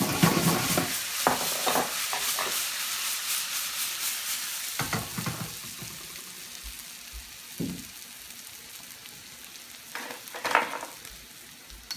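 Noodles frying and being stirred in a hot pan for vegetable chow mein, a steady sizzle broken by several scraping, clattering stirs, with a louder burst near the end; no talking.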